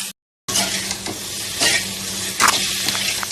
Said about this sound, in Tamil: இருக்கிற தக்காளி எல்லாம் சேர்த்து வதக்கணும்